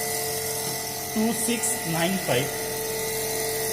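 A DC shunt motor on a lab test bench runs at about 2695 RPM, giving a steady whining hum with constant tones. A voice speaks briefly over it midway.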